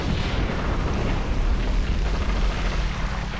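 Dense, roaring blast from bombs dropping in Conker's Bad Fur Day, a loud, continuous low rumble with a broad noisy wash that sustains for several seconds without talk.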